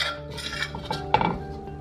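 Metal spatula scraping longanisa sauce out of a cooking pan, short clinks and scrapes of utensil against metal, close and fairly quiet, no talking.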